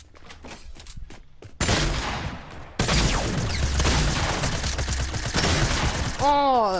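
Video game gunfire erupts in loud, sustained volleys after a quieter opening of faint clicks, staying heavy and close with booming layers and a brief warbling tone near the end.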